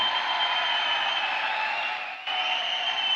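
A standing congregation at a gospel meeting in Delhi applauds loudly for Reverend Ophir, a dense, even wash of clapping that holds steady for several seconds and dips only briefly near the end.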